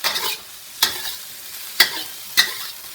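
Fried rice sizzles in a pan as a spatula scrapes and tosses it, with a steady frying hiss broken by four sharp scraping strokes at roughly even intervals, close and fairly loud with no talking.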